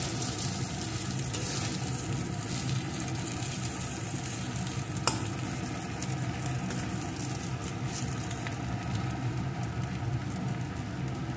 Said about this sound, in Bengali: আমার রেডি হয়ে গেছে কাঁচকলা ভাজা